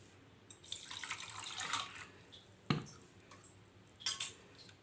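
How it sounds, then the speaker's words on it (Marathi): A cooking vessel being rinsed with tap water in a kitchen, quiet splashing and swishing with a few sharper clanks and bursts of running water, close by and without voices. "आधी आपलं भांडं खंगळून घेते."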